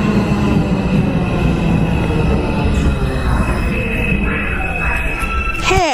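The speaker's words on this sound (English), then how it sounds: "here's our 5 train." A New York City 5 subway train rumbles loudly into the station, with a steady roar, metallic wheel squeal and a rising screech of brakes near the end.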